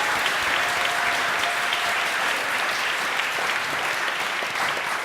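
A neighborhood panel audience on Crown Heights applauds a panelist, Sharon, with sustained, even applause from many hands, a dense continuous wash heard alone for about five seconds.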